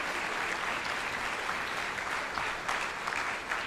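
An audience at a high school honor band festival claps in a full, sustained burst of applause, even and lively throughout with scattered louder claps.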